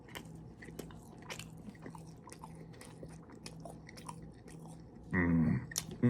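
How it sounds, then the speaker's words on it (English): Close, crisp bites and chewing of a Jack in the Box sausage breakfast sandwich with sausage patty, cheese and egg, soft repeated munching ending in a louder crunchy bite. "You cannot go wrong with a classic sausage breakfast sandwich"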